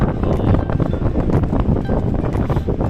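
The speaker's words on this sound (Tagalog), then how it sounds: "Ang lakas ng hangin." Strong wind at the sea buffets the microphone in rough, gusty bursts, a continuous low rumble with irregular thumps.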